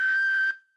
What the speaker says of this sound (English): Dozo whistle.